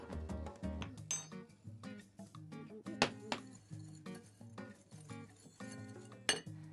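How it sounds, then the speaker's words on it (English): Melted butter, ripe banana, yogurt, vanilla and egg being whisked for banana bread in a bowl, heard as irregular clinking metal taps against the bowl, close and fairly loud. "In a second bowl, I whisked together the remaining ingredients."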